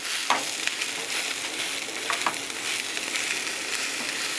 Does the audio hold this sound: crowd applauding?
no